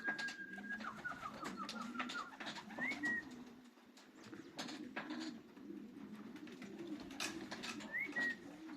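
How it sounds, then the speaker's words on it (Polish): Young racing pigeons returning to a loft during a Polish club race, with soft cooing and brief wing sounds close by, a couple of thin whistled calls, and low background rumble throughout. "No, kapią, kapią, kapią gołębie."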